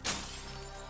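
Glass window shattering in the video game Intravenous 2: a single sharp crash at the start, followed by a brief tinkling decay over low game ambience.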